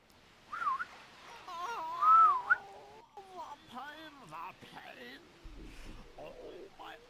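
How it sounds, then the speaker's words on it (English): A short tuneful whistle sounds in the video game Dragon Quest 8, rising and falling tones near the start, followed by a person talking quietly. "Whistle is useful."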